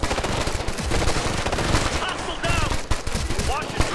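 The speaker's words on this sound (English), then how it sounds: "Where are we getting shot from?" Dense, loud automatic gunfire from the video game Ghost Recon Future Soldier, with rapid overlapping bursts and volleys rattling almost nonstop.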